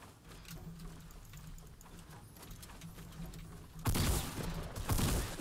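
A minigun in a video game fires in rapid bursts, a sparse crackle at first, then a loud dense barrage in the final second and a half.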